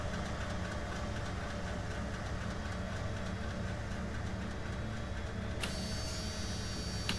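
IVECO Crossway LE low-floor city bus in OMSI 2 idles with a steady, low diesel rumble and an even droning whir throughout, then a brief click and a change in tone near the end, with no talking.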